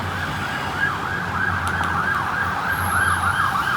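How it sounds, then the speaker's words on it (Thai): An emergency siren wails steadily with a rising and falling tone, heard from a distance over street traffic rumble at night while walking along a roadside, continuous throughout. "เสียง วู้วู้วู้เสียงหวอ"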